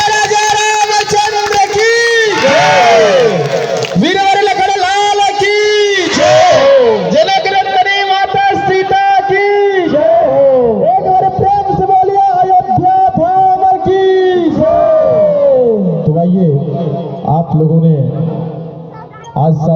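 Loud crowd chanting and cheering at an outdoor Ramleela celebration in Lodhway, Fatehpur, Gaya, with voices rising together in repeated chant-like waves that fill the whole stretch before fading at the end.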